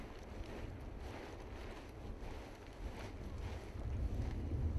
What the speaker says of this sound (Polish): wiatr jest za silny dla mnie i muszę poczekać, aż troszeczkę osławnie